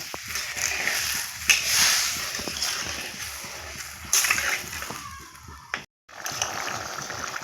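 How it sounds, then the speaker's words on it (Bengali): A pot of egg curry broth comes to a boil on the stove. It gives a continuous bubbling and sloshing close by, with a brief dropout near the end. "এখন এই ঝোলটা আমি ফুটিয়ে নেব"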